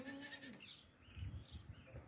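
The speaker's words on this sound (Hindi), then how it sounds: "मोटी ताज़ी जवान बकरी है।" Young, healthy goat, a four-toothed doe at an animal market, giving a short, close bleat at the start followed by low rustling and handling noises.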